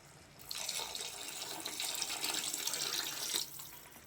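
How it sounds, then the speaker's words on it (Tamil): Water runs steadily for about three seconds as it is poured into a pot of prawn curry, a close, hissing splash that starts and stops abruptly in a quiet kitchen. "இப்போ நம்ம தண்ணி சேர்த்துக்கலாம்."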